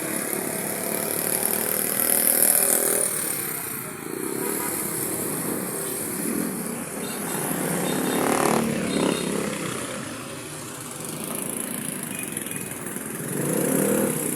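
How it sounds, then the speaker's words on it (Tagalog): A water pump runs at high tide by a footbridge, giving a steady, buzzing motor drone that rises and falls slightly over about fourteen seconds, with outdoor ambience and traffic around it. "Ito yung water pump. Umaandar na din ito eh."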